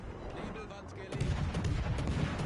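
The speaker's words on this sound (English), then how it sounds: "Feuer auf gegnerisches Kriegsschiff." Warship guns fire at an enemy warship during a naval destroyer battle game, a continuous low rumble of blasts that grows louder midway, with smoke launcher and fire alarm effects nearby and a voice talking over it.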